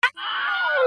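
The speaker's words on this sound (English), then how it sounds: "Now, there's the Wilhelm scream." A Wilhelm scream, the stock film sound effect used for a character shot in the thigh with an arrow: a short sharp cry, a brief gap, then one long loud wavering scream that slides downward and cuts off.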